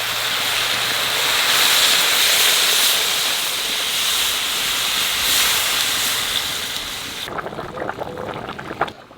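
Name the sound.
water heating in a pot, steaming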